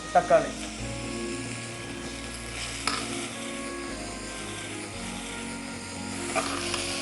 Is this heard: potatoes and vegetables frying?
yes